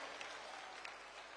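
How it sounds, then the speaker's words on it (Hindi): An audience at a Bageshwar Dham gathering claps in a steady, continuous wash of applause, heard fairly faint and distant, as if from the back of a large crowd. "जोरदार ताली बजा करके हम सब पूरा बागेश्वर परिवार स्वागत करें।"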